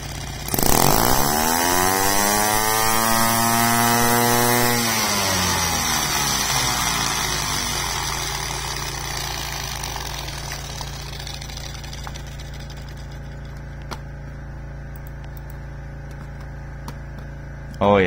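A compressed air engine spins up in a loud whine that sweeps upward over the first five seconds, then holds a steady high-speed scream near 7200 rpm, gradually settling into an even drone.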